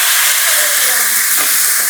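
Garlic and shallots sautéing in a pan, a loud, steady sizzle and hiss throughout with no break.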